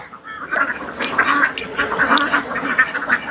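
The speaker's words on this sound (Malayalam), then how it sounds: "തൊട്ടടുത്ത താറാക്കുട്ടങ്ങൾ വന്ന് ഇങ്ങനെ വിളിക്കുകയാണ്" Ducklings at Vellayani call close by in a steady run of bright, chirpy peeps and quacks that overlap and keep going through the whole moment, with no talking.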